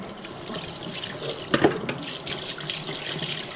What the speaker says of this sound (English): she's going to fill up this sink over here